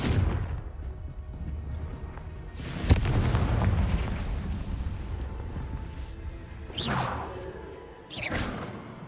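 Confringo spells blast in the video game Hogwarts Legacy, giving heavy booming explosions with whooshing bursts. One sharp hit lands early, followed by rumbling and then two more quick blasts near the end.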